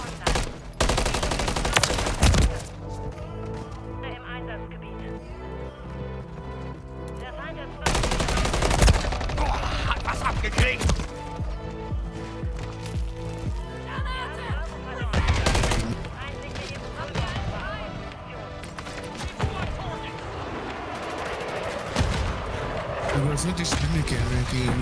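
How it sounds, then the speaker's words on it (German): Gunfire in the video game Call of Duty Modern Warfare: loud bursts of automatic rifle fire and single shots come in repeated volleys, with someone talking in German over the action throughout. "Ich stehe unter direktem Beschuss."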